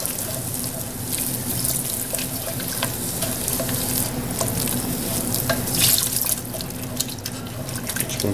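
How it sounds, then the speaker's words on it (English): Cold beef stock, four cups of it, is poured into a hot roux in a pan, giving a steady liquid splashing and sizzling, close and continuous, with faint stirring clinks and no talk. "Now we can start adding our stock. I've got 4 cups of beef stock."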